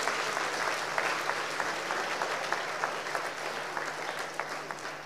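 An audience at a master's graduation ceremony claps steadily, a dense, sustained round of applause that fades slightly toward the end.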